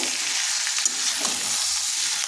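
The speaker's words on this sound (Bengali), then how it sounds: "এরপর দিয়ে দিচ্ছি ফুলকপিগুলো। এগুলো দিয়েও আরেকটু কষে নেব" Cauliflower sautéed with eggs and spices in a pan makes a constant, loud frying hiss with faint stirring ticks and no speech.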